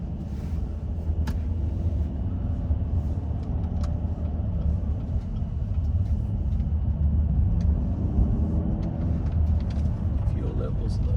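Steady low engine rumble from a 2024 Chevrolet Camaro 2SS 1LE on the move, a continuous close drone with road noise and no one speaking.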